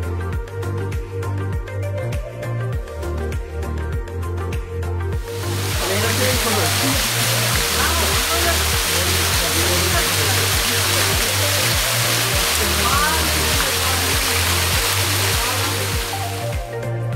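Shilbunia waterfall in the hills of Bandarban roars as a loud, steady broadband rush that swells in after a few seconds of music and continues to the end, with the music still running faintly underneath.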